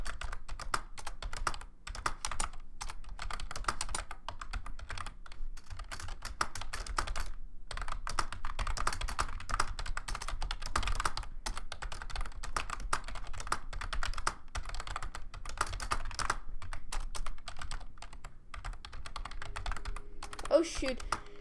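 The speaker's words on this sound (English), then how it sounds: "I'm having way too much trouble for typing." Rapid, continuous keystrokes clatter on a computer keyboard during a typing speed test, close and steady for the whole stretch, with a brief voice near the end.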